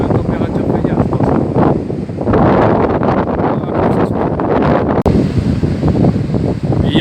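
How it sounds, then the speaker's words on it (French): Wind and ocean waves wash steadily over an almost empty beach on Île de Ré under grey skies, a continuous loud roar with broadband surf surges and gusty buffeting on the microphone. "Et il y a des vagues."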